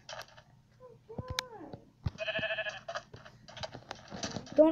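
Sheep bleat in a video game, a few short wavering calls at close range between clicking sounds.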